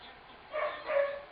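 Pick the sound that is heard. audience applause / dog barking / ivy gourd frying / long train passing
dog barking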